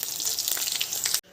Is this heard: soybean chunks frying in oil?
yes